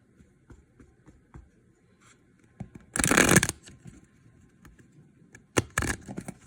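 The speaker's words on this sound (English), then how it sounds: "I'm going to pull some tarot cards" Tarot cards are shuffled in two short, crisp riffling bursts, the first longer and the second brief, against a quiet room with faint small taps and handling noises.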